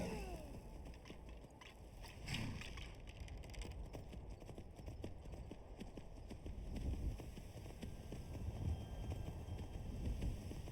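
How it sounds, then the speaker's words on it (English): Horse hooves clip-clop steadily in Skyrim, a continuous run of hoofbeats mixed with wind-like noise and game ambience, with no voices. "Damn horse wants to take off all the time."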